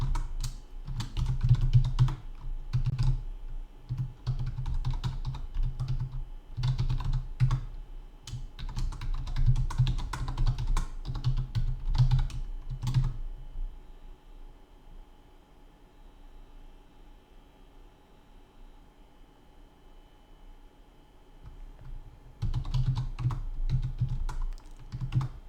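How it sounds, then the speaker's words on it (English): Fast clattering keystrokes on a computer keyboard in bursts, pausing mid-clip before resuming, close and fairly loud with no talk. "I can type."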